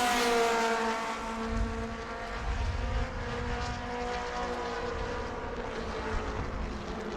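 Stock cars race through a corner at New Smyrna, their engines droning loudly and steadily together as a close, continuous roar with slight pitch shifts.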